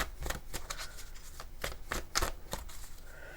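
Tarot cards are shuffled by hand at close range, a series of quick papery riffles and flicks in an irregular rhythm, soft and alone with no talk.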